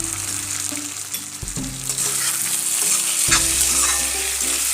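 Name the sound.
fish and eggplant curry sizzling in a pan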